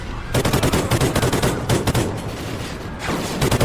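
Gunfire in the PS4 video game Call of Duty: Ghosts, loud close automatic bursts in rapid, dense repetition with only brief gaps throughout.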